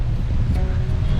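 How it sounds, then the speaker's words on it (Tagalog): Strong wind rushing over a misty mountainside, a steady low roar buffeting the microphone, loud and continuous, with a faint trace of voice underneath. "Tsaka lakas ang hangin talaga."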